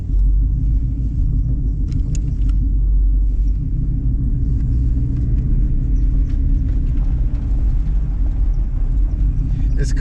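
Cabin of a car fitted with a Tremec transmission and a Steeda Tri-Ax shifter while driving: a loud, steady low rumble of engine and drivetrain with road noise, constant for the whole stretch, faint voice in the background.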